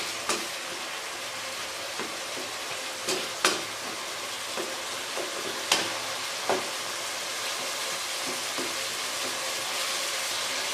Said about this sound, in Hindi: चम्मच की मदद से इस तरह हम इसको दबा दबा के इसके अंदर मेल्ट कर देंगे।